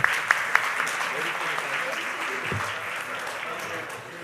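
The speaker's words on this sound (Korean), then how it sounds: "박수 한번 바랍니다." Audience applause at the opening ceremony of a security-leader training program, a dense sustained clapping crowd in a hall with a few sharp louder claps at the start, continuing steadily without fading.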